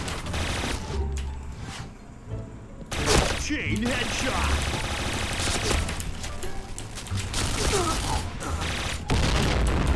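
Gunfire and shotgun blasts in a video game ring out in loud, dense bursts and bangs through the clip, with a player talking excitedly over them.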